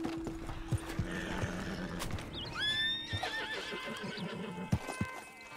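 In Red Dead Online, a tired horse's hooves clop irregularly, and the horse lets out a clear whinny partway through. Occasional thuds sound nearby, with no one talking.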